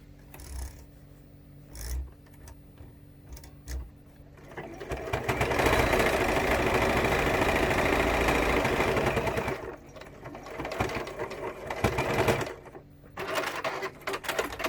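Sewing a pouch, a machine stitches in a steady, close whirring run of about five seconds in the middle, with scattered handling clicks and rustles of fabric before and after.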